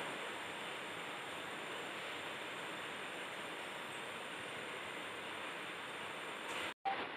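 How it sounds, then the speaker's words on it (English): A Bunsen burner heats water with a steady, even roar that holds constant, then cuts out abruptly for a moment near the end before resuming. "warm the water in a Bunsen burner"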